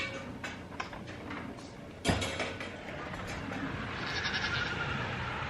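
Newborn miniature baby goats bleat in shrill, overlapping cries, with a sharp door clunk partway through, and the calls grow louder and more insistent afterward.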